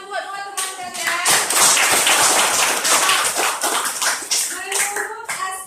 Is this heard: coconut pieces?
no